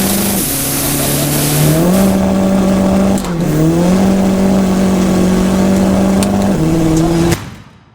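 A VW Corrado with a 1.9 TDI sequential turbo diesel and all-wheel drive, running about 3.8 bar of boost, revving hard close up through several gear changes, loud and alone before cutting off at the end.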